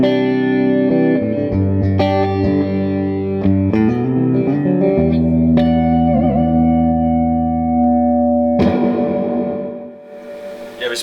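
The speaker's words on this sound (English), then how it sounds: "You have a plate reverb." Electric guitar through a Bogner Alchemist 212 combo amp with plate reverb, loud sustained chords and picked notes ringing out with a smooth reverberant tail, a fresh strum near the end, no talking.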